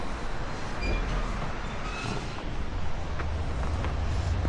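A train pulls into a station in Kyoto, Japan, its low, steady rumble rolling continuously at moderate distance with faint higher hiss and a few brief tonal whines above.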